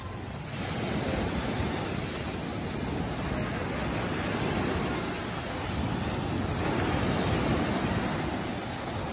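Ocean surf at a beach resort at high tide in Santa Maria, Davao Occidental, a continuous loud wash of waves mixed with wind buffeting the microphone, swelling and easing gently.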